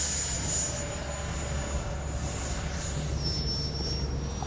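A Freewing 90mm Zeus RC jet whines steadily as it takes off, a continuous high turbine tone that shifts pitch partway through over a rumbling engine roar, heard from a distance outdoors with no talking.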